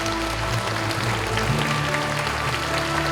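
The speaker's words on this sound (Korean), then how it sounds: "네, 여러분 축하의 박수 보내주시기 바랍니다." An audience applauds at a city mayor's inauguration ceremony in Yongin, with steady sustained clapping over a low hum of the hall's sound system and a murmur of background noise.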